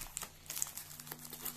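A plastic parcel bag from an AliExpress diamond-painting order is cut open with scissors, giving a quick run of close crinkling and snipping clicks in an irregular rhythm, fairly quiet and without talk.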